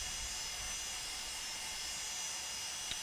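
Steady broadband jet engine roar in a home flight simulator cockpit as the engines spool up and stabilize, a constant continuous hiss and whine with no talk over it.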